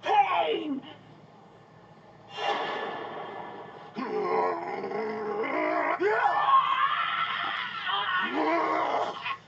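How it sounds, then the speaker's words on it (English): Vocal screams and pained cries from a character in the action game Hades, rising in loud bursts with some quieter gaps between them. "Well, I finally heard him scream."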